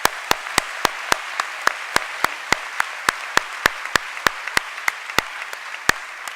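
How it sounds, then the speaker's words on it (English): Audience applause at a university commencement ceremony, a steady wash of crowd clapping with one close, crisp clapper keeping an even, rapid beat throughout. "Let's give a round of applause to all of these important individuals in our lives."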